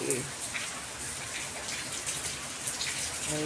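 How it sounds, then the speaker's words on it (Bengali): Heavy rain pours down in a dense, continuous hiss, loud and close, with no break. "কি জোরে বৃষ্টি হচ্ছে"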